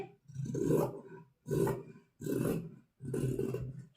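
Scissors cutting the armhole of churidar fabric: four separate rasping snips, each about half a second to a second long, close and clear with short quiet gaps between them.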